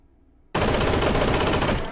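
M1911A1 .45 ACP pistol with stock attached fired in full-auto in the VR game H3VR: after half a second of quiet, a dense, loud, rapid burst of gunfire runs continuously to the end.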